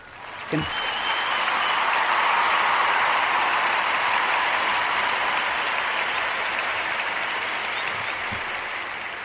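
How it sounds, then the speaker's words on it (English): Sustained, full audience applause for an award recipient, swelling quickly after a brief voice and holding loud and even for several seconds before tapering slightly, with a short voice near the end. "Let's give him a round of applause."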